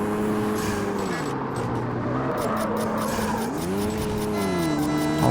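Racing car engine in Street Racing Syndicate, a steady loud drone whose pitch sweeps up and down through gear changes, with tire squeal and skidding mixed in, continuous and close throughout.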